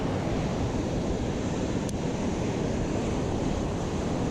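Ocean surf breaking continuously along the Oregon coast, a steady dense roar of waves with wind across the microphone, loud and unbroken throughout with no voices.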